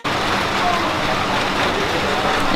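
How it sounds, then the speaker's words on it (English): Rain falls steadily in Kuala Lumpur, a dense continuous hiss with a low roar, constant in level throughout. "It's raining."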